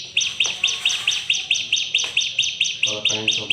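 Bar-winged prinia calling in a steady run of bright, high chirps, repeated about twice a second, close and clear with faint background noise.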